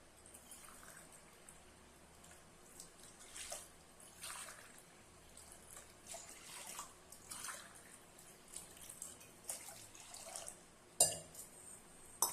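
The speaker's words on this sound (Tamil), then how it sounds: "இந்த பாத்திரத்தில் 3 டம்ளர் தண்ணி ஊற்றுறேன்." Water pours and splashes softly from a tumbler into a cooking pot in irregular bursts, fairly quiet, with a few clinks near the end.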